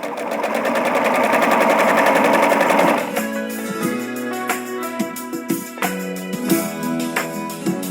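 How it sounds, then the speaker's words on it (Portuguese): A simple domestic straight-stitch sewing machine runs steadily through fabric and elastic with a fast, even whir, then breaks into short, intermittent bursts of stitching with clicks and pauses. "feito com uma máquina de costura reta simples doméstica"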